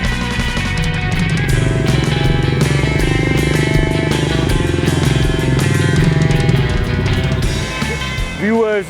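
A motorbike at a riverside luxury resort beside the Panjkora River in Kumrat Valley, Pakistan, hums loud and close with a steady engine drone, then revs upward near the end, with a voice over it.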